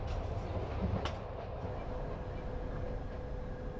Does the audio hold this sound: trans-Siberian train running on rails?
yes